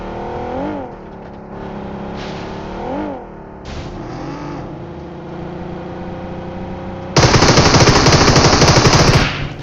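A vehicle engine revs and drives in the video game BGMI, rising and falling as it accelerates, then a loud, sustained burst of rapid automatic gunfire takes over for the final few seconds.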